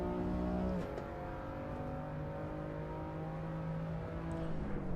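A race car engine in Assetto Corsa Evo drones steadily with a buzzing tone that drops sharply early on, then holds a sustained whirring note, heard from inside the car at moderate level.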